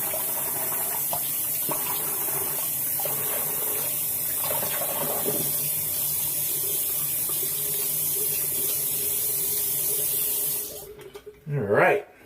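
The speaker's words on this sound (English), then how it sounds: "I'm just going to go ahead and rinse my head off with some cold water here." Cold water runs from a tap while a head is rinsed, a steady close splashing flow that cuts off near the end, followed by a few brief drips and handling sounds.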